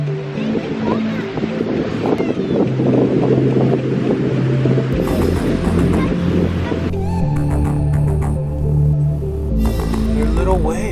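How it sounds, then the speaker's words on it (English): Small ocean waves wash onto the shore on a morning beach, a continuous close surf rush with gusts of wind buffeting the microphone. "They're little waves."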